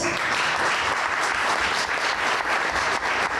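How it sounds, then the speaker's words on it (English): A debate audience bursts into steady, dense applause to vote for the affirmative side, the clapping continuous and fairly even throughout with no talk over it. "Applause if you think they have it."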